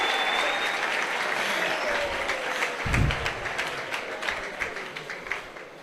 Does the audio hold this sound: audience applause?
yes